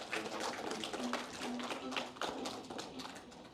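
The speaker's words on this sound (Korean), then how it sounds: "여러분 힘찬 응원의 박수 보내주십시오" A modest audience at a children's policy proposal contest claps briefly, light irregular taps and claps fairly quiet and thinning out over a few seconds.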